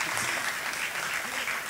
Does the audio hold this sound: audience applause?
yes